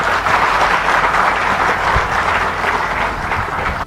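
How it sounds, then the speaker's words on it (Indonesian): Enthusiastic applause from an audience greeting Prabowo's speech about a state award for the police chief, a dense, loud, continuous clapping that fills the whole stretch without pause. "Kata Prabowo, disambut tepuk tangan meriah, Jumat."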